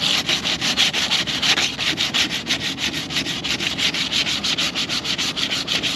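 Steady rhythmic sanding strokes scrub away hardened epoxy build-up around a window opening, a close, continuous back-and-forth rasp with even pulses and no voices.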